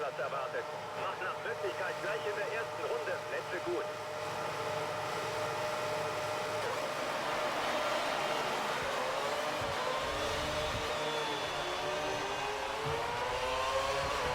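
Formula 1 car engine in the F1 2013 racing game at the Spanish round, a continuous high whining drone that climbs in pitch as it accelerates, with someone talking over it.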